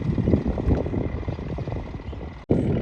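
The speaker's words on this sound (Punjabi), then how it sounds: "ਟਰੈਕਟਰ ਦਾ ਤੁਸੀਂ ਪੂਰਾ ਦੇਖ ਸਕਦੇ ਹੋ ਆਵਾਜ਼ ਸੁਣ ਸਕਦੇ ਹੋ" A steady, heavy diesel rumble from a Swaraj tractor ploughing a field drones on continuously, with a brief cutout near the end before the engine noise resumes at full strength.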